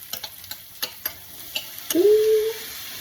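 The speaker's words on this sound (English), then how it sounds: "To a hot pan, we'll add some butter and then a little bit of olive oil. And then first start with our peppers." Peppers and pineapple pieces cook in butter and olive oil in a hot pan, with several light clicks and stirring taps of a utensil, then a brief sizzle, close and quiet, with no talk.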